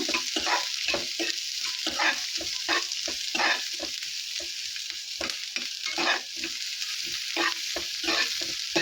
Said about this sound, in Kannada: ಸ್ವಲ್ಪ ಹಸಿ ಸ್ಮೆಲ್ಲೆಲ್ಲ ಹೋಗ್ಬೇಕು ಚೆನ್ನಾಗಿ ಫ್ರೈ ಮಾಡ್ಕೊಳ್ಳೋಣ